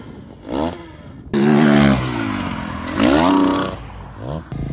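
A dirt bike engine revving hard on the run-up to a road jump over a highway, rising and falling throttle blips swelling into a loud, sustained, close whine with gear-like pitch sweeps, no talking.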